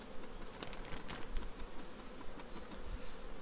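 Honey bees swarm densely around an open hive while being shaken out for nucleus colonies, a thick continuous buzz close by with a few sharper passing drones and light knocks.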